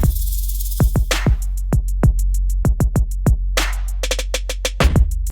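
The Realist drum kit in Battery 4 plays a beat with a tight, snappy snare and a deep, booming low kick like an 808, plus quick hi-hat ticks, all up close and loud.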